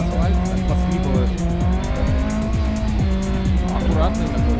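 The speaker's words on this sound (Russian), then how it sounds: "Слышно, как цепляются шины, пытаются зацепиться за асфальт, так поскрипывают." A car on asphalt takes a tight gymkhana turn, its tires squealing and scrabbling for grip while the engine drones and rises steadily underneath, loud and close throughout.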